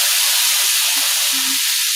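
Peppers, celery and onions tossed into a hot pan where bison is cooking, giving a loud steady sizzle and hiss close up, with faint stirring knocks underneath and no talking.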